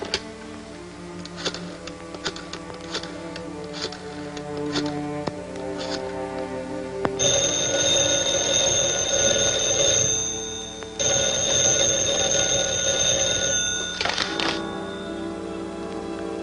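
A telephone rings in a 1945 movie serial, sounding as two long bright bursts of ringing between quieter stretches of background film music and small clicks.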